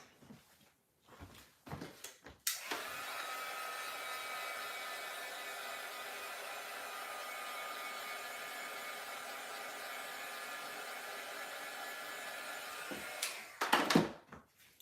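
A hair dryer blows steadily on a wet card-making piece for about eleven seconds, a continuous close whoosh starting and stopping abruptly, with a few handling knocks before and after.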